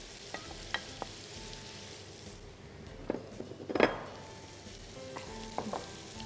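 Boiled potatoes with cheese being stirred by hand in a pan, with soft frying sizzle under scattered clinks and scrapes, one louder clatter near the middle, close and moderately quiet.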